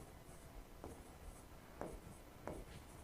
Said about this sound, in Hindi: फिर मैं लिख रहा हूं